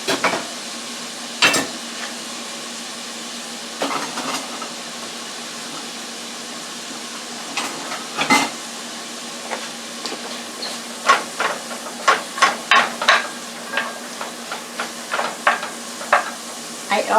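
Chopped onion, one medium-sized, cooks in olive oil in a pan, giving a soft steady sizzle broken by sharp clicks and scrapes of stirring that come more often toward the end. No one speaks.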